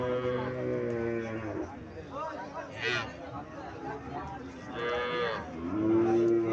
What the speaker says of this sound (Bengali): গাভীটা তো দেশি গাভী না?